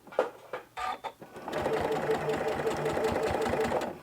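Home sewing machine stitching fabric for a DIY sewing tool holder, running in reverse to lock the stitches: a steady mechanical whir with rapid rhythmic needle clatter that starts partway through, after a few brief bumps and handling sounds.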